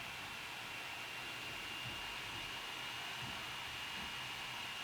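A laptop cooling fan whirs loudly and steadily while running Gmail in Chrome, a constant airy hiss with a faint high whine, with no other sounds.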